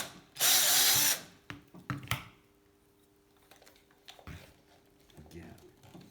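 Power drill boring pilot holes in a vintage Atala bike frame: one loud burst of drilling up front, then brief ratcheting clicks and clanks, with faint handling noise after.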